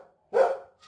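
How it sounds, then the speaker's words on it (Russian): A visiting dog inside a home gives one loud, close bark at someone coming in the door. Near silence surrounds it, with a faint whimper just after. "у нас собака гостит, вот так встречает всех входящих"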